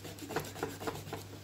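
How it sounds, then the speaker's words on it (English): Pastel being rubbed and smudged on paper gives a faint, soft, dry rasping in a few short repeated strokes, heard alone. "I could just rub it all out again"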